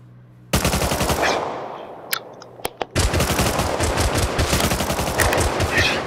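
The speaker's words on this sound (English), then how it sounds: "Oh my god, I shot him so many times, he didn't die." Rapid automatic gunfire rattles in a video game, starting with one long sustained burst that fades, a few single sharp shots, then another long dense volley, loud and close.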